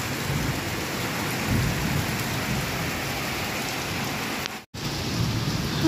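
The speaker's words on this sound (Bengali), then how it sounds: "জানি না এই বৃষ্টি কখন থামবে" Heavy rain pours steadily outside an open window in a downpour, a dense, continuous hiss with deep thunder rumbling underneath, close and loud with no voices, briefly cut to silence near the end.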